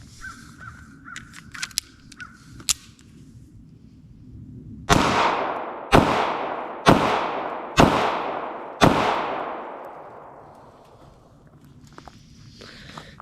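Five sharp, loud shots from a Bodyguard 2.0 .380 pistol at a range ring out about one second apart, each with a decaying echo, after a stretch of quiet shuffling and faint clicks.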